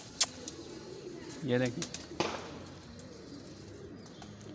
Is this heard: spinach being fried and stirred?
no